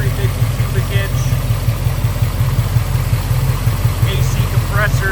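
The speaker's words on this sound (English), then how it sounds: "There is your small block Chevy 350 cubic inch." A small block Chevy 350 cubic inch V8 in a restored 1972 Chevrolet C10 shortbed idles steadily, a loud, close, even low rumble with a fine rhythmic pulse throughout.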